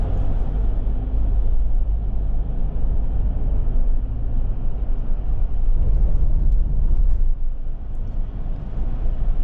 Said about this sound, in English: we're out on the road in this 25 Land Cruiser 1958 edition